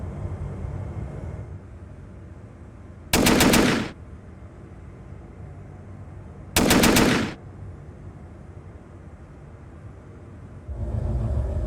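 A live Gatling turret fires in a video game, two separate bursts of rapid automatic gunfire a few seconds apart, loud and close against a low ambient hum, with no talk.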